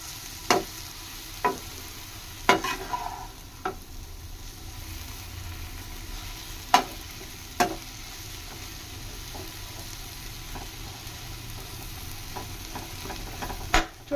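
Gongura leaves wilting in a pan, a soft steady sizzle under repeated scraping and knocking of a spatula against the pan at an irregular pace, no talk.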